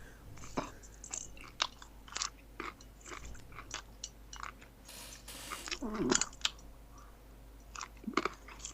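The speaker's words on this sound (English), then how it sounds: "Just chew with me." Close, crunchy chewing of food in a steady rhythm of loud bites and mouth clicks over several seconds, with brief rustles and a faint murmur in the background.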